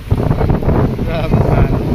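Storm waves and strong wind on a typhoon-battered shore, a loud, close roar of gusting wind buffeting the microphone with surging water beneath.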